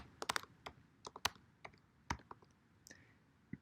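Typing on a computer keyboard while entering an IP address, a run of separate, fairly close key clicks in an uneven rhythm with short pauses between them and no talking.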